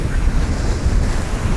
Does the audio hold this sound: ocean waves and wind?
yes